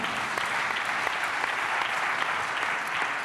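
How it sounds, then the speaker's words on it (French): Steady, dense applause from an audience at a housing and territories awards ceremony, a continuous wash of many hands clapping at even loudness throughout. "je crois qu'on peut les applaudir là aussi bien fort tous les 4"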